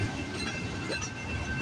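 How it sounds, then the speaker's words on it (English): A slow freight train rolls past at Delray Junction, a steady, close rumble of wagons with faint wheel noise and a continuous even level across the moment. "This is one slow train."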